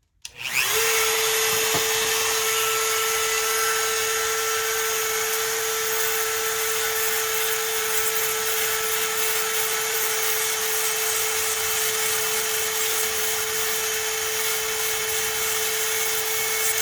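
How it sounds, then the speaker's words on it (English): A Dremel rotary tool on a flex shaft with a pointy carbide bit spins up and runs at a constant high-pitched whine for the whole stretch, loud and close, with no talking. "I find it really convenient to use just this Dremel with a flex shaft with a really pointy carbide bit"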